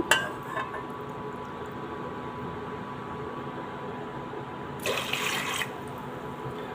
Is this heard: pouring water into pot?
yes